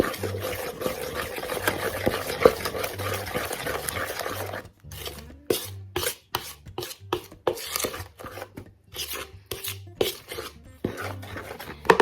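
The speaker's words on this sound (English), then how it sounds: "And then I mix this all together." Christmas cake ingredients being stirred together in a bowl, a steady scraping and sloshing at first, then breaking into irregular spoon knocks and pauses, close and fairly quiet.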